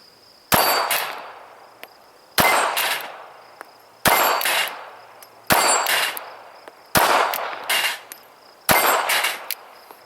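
Six sharp shots from a small S&W Bodyguard .380 pistol at a shooting range, fired at an even pace about two seconds apart, each a loud crack with a short ringing tail and no talk.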